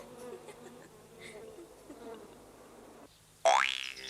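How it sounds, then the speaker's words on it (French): Bees buzz faintly in a busy background for a few seconds, then a sudden loud rising boing-like tone cuts in near the end; from a 1975 animated cartoon. "Ça bourdonne, ça ronfle, ça vole dans tous les sens."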